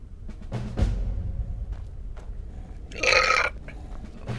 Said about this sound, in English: spicy burp.